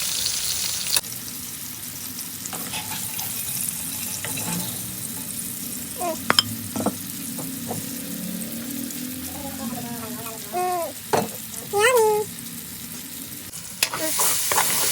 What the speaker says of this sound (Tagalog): Naprito na yung sibuyas at saka yung kamatis.